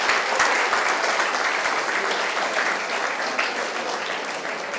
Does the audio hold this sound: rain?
no